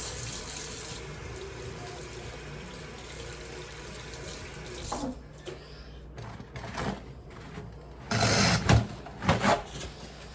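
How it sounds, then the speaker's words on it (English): Tap water runs into a kitchen sink for handwashing while tacos are being cooked, a close broadband rush that comes and goes in uneven bursts with handling clatter, no talk. "so you want to wash your hands."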